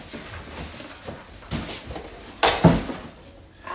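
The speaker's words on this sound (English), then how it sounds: "The drawer on this side." A drawer is opened and closed at home, giving a few close knocks and a sliding scrape, with the loudest bump near the end over low room noise.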